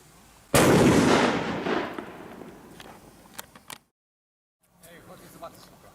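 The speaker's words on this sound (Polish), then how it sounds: "petarda nie miała żadnego problemu, żeby w wodzie wybuchnąć i od razu leci kolejna" A single sharp blast from a Titanium Bombers firecracker by Roger Fireworks, loud and close, followed by a decaying rumble, a brief silence, and faint scattered sounds afterward.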